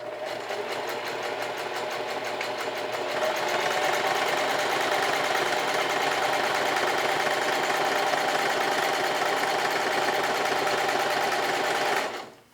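A sewing machine runs a steady 2mm-wide zigzag stitch along the edge of an apron, close and continuous with a dense mechanical whir, then stops abruptly at the end.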